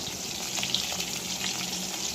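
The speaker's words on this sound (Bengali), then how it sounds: "মাছ ভাজা হচ্ছে" Fish pieces frying in a kitchen pan give a continuous bright hiss with scattered crackles and pops, near and steady, with no talking.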